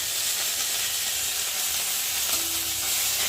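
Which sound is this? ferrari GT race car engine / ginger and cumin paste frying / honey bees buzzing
ginger and cumin paste frying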